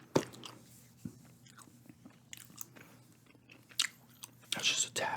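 Soft, wet gum chewing with intermittent smacks and clicks, close to the microphone and quiet, with sparse pauses between bites and a few louder crunchy moments toward the end.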